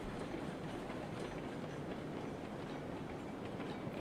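Train rolling along a line in RailRoads Online, a steady rumble with clickety-clack wheel noise on the rails, continuous and moderately loud with no voices.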